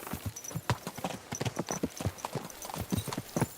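Horse hooves clip-clopping at a steady walking rhythm in the video game Kingdom Come Deliverance 2, crisp repeated hoofbeats close by.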